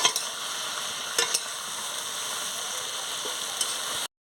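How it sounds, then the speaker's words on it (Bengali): Chopped vegetables with salt and coriander leaves stir-fry in a pan, a steady close sizzle with a few scraping stirs of the spatula, no talking. "দিয়ে ভালো করে আনাজগুলোকে ভেজে নিচ্ছি"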